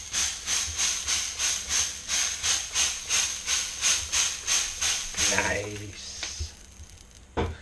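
Peri peri rubbed steak sizzles in a cast iron skillet, a steady hiss pulsing in regular bursts close by for several seconds before fading, with a brief spoken word near the end.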